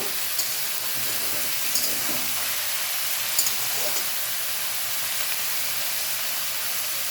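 Chopped raw tomatoes hiss in a hot pan as they are stirred: a constant, even sizzle with a few faint scraping taps, and no voices.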